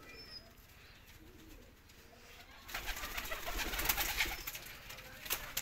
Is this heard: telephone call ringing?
no